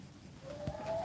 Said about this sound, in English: So yeah, so these are the English Jubilee Orpingtons.